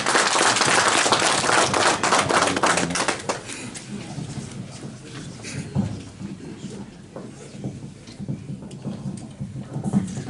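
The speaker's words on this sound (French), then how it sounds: "je vous demande de l'applaudir" A crowd claps for a speaker at a Congolese diaspora gathering in Paris, loud and dense at first, then thinning to scattered, fading claps.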